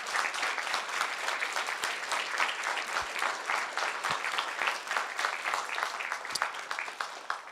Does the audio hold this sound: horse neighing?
no